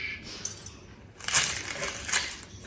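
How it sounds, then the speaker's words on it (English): Crispy baked pastry triangles crunching as they are bitten or broken, a short crackle followed by a louder burst of crisp crunching, close up with no talking. "Hear the crunch."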